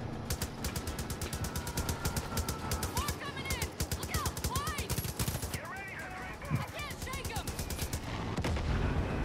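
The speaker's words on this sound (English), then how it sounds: "Try shooting the ice!" Rapid gunfire in Far Cry 5, dense bursts of automatic shots crackling continuously and loudly throughout, with chirpy effects mixed in.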